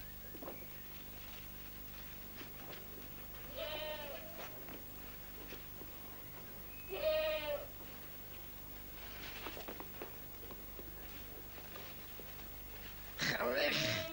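Goats bleating on a farm, several short quavering calls at moderate distance, separated by quieter stretches, with a louder burst near the end; people talk faintly in the background.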